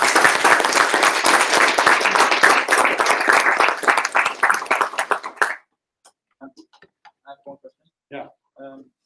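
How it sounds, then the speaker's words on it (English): A conference audience at a front-end web talk applauds steadily for about five seconds, then the clapping thins to a few scattered, isolated claps. "Can we clap?"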